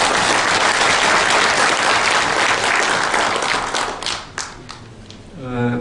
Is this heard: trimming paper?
no